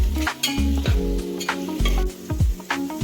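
Onion and chilli sautéing in a pan: loud, close stirring scrapes of a spoon against metal repeat in an irregular rhythm over a continuous sizzle.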